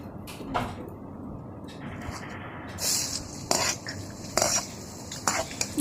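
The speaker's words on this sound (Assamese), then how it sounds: "ইয়াত এতিয়া মই এয়া পিঁয়াজ দি দিছোঁ। আদা নহৰু দি দিছোঁ একেলগে।" Onion, ginger and garlic go into hot olive oil in a wok, giving a soft sizzle with several sharp metal scrapes and clanks of a spoon stirring against the pan, close and intermittent.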